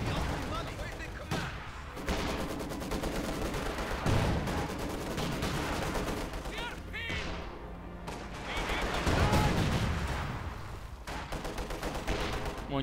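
A Company of Heroes 2 battle with artillery bombardment and Maxim machine gun fire: dense, continuous bursts and blasts rumble throughout, with a commentator talking over the din.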